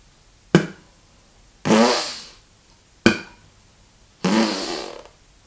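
Contemporary didgeridoo played without voice using the TP technique: two pairs of sounds, each a sharp percussive attack followed by a longer breathy, hissing burst that fades, played close and with short gaps between.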